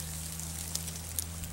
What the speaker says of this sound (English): the shot's just raining down.